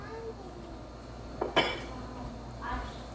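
A lid goes onto a glass pickle jar with a brief glassy clink and tap, close by, followed by a softer contact a moment later against faint room noise.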